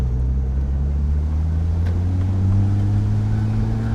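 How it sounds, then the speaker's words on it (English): A Porsche 911 GT3 RS rolls along slowly, its engine a steady low drone that rises gradually in pitch, with some wind noise and no speech. "driving around slowly like this feels identical, other than the slightly different sound it's making"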